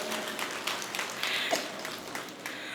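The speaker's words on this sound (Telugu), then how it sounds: "చప్పట్లతో చెప్పండి, పర్వాలేదు." An audience applauds at a Mahavatar Babaji birthday celebration event in Vijayawada, a soft, dense patter of many hands clapping at some distance, fairly quiet and steady throughout.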